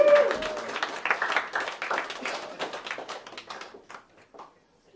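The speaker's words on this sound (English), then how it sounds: "sorry to keep you clapping, but you know that's how it goes at these comedy events" Audience clapping at a comedy night, a burst of applause from a crowd that thins out and fades to near silence by the end, with no voices over it.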